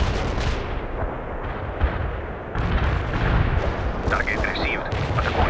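Artillery barrage in the real-time strategy game World in Conflict, with a dense, continuous rumble of distant shelling and blasts and a few brief higher accents, a muffled voice partly under it.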